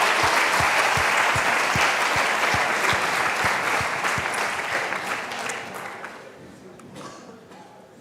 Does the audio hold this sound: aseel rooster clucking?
no